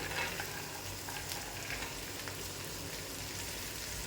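Black beans added to hot oil in a pan for spiced rice, giving a close, steady sizzle and crackle with faint stirring, with no voices.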